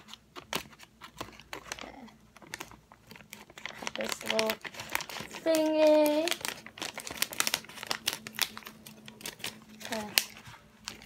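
Small eyebrow scissors snip and crinkle through a plastic MRE meal pouch at close range, with a voice speaking briefly over the rustling.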